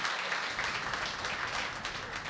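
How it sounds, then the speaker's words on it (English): Audience applause fills the room steadily throughout, a dense, even wash of clapping at moderate level with no voices on top. "Let's give a hand applause."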